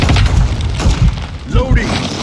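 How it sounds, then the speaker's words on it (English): A stun grenade goes off in Call of Duty Modern Warfare II: a loud, deep boom with a thudding low end and a brief ringing whine after it. Shouted in-game voices sit under and around the blast. "stun grenade out!"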